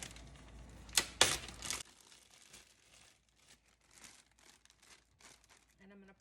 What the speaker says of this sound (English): what I find out that works best is I just use a Ziploc bag